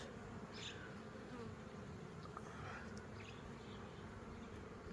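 A dense, continuous buzz of many honeybees swarming close by at an open hive being expanded with frames, steady and unbroken, with a few individual insects passing nearer.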